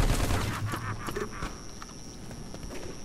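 Gunfire in the online shooter game Micro Volts, a quick volley of shots at the start fading into scattered fainter pops and clatter, fairly quiet overall.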